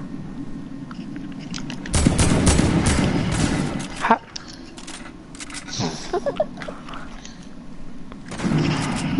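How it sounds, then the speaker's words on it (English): A heavy shotgun fires repeatedly in a playground-themed shooter video game, giving a dense, loud burst of blasts that runs for about two seconds, then scattered quieter shots and a final loud burst, with voices talking over the gameplay. "stop shooting with the heavy shotgun for far range"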